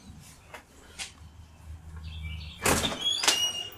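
A front door is opened to greet a visitor at a home gym, heard as a brief rattle and swoosh near the end, following quieter handling sounds and a faint background hum.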